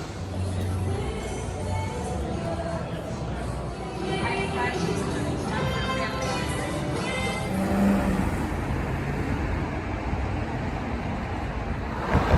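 Car driving about 20 minutes on roads around Century City, Los Angeles, heard from inside as a steady road and engine rumble with a brief surge partway through, while people talk over it.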